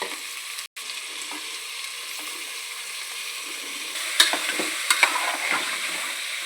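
Sprouted seeds, green peas and chopped vegetables stir-frying in a pan, with a steady close sizzle and a few scraping stirs near the end, with no talk.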